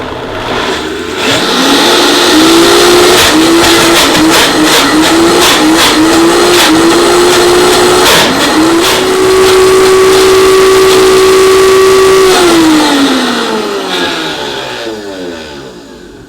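A blender whirs through avocado cilantro hummus, a loud motor whine that rises and wavers, holds steady at high speed, then spins down and trails off.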